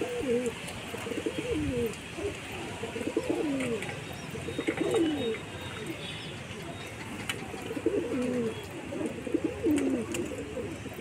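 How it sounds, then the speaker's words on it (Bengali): Pigeons in a loft coo in repeated soft, throaty rolling phrases, several birds overlapping at close range in a steady chorus over light background noise. "এখানে দেখতে পাচ্ছ আমার সব পায়রাই আছে"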